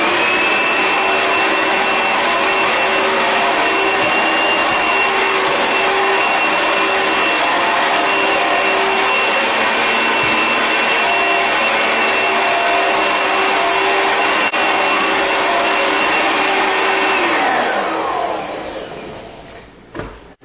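An Oreck HEPA lightweight bagged upright vacuum runs with a steady, loud motor whine and airy roar for about eighteen seconds, then winds down and stops, with no talking.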